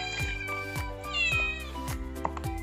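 Several cats meowing insistently nearby, their rising and falling cries overlapping in quick succession against a constant low hum.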